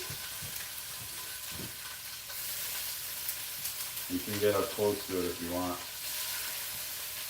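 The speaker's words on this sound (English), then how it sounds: "Listen to that sizzle." Whiting and catfish fry in a pan with a steady sizzle that crackles loudly throughout, with a person speaking briefly over it partway through.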